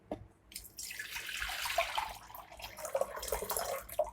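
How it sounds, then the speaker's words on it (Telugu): Tap water runs steadily into a sink as freshly cut, salted potato chips are washed, a continuous close splashing stream with small drips, no voices. "కడుక్కోవాలి చిప్స్ బాగా"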